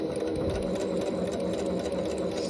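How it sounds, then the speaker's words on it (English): A home sewing machine runs steadily for a few seconds, stitching dress fabric forward and then back-stitching toward a side seam, a close, continuous whirring hum with no talking. "Go ahead and stitch a bit forward. And then just back stitch to that side seam."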